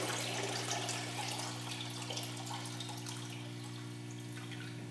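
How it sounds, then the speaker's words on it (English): Used oil-change fluid poured from the spout of an A Lu Max LX1314 oil extractor into a recycle bin, a faint continuous trickling splash over a steady low hum. "it's a convenient way of just pouring that fluid back into a recycle bin"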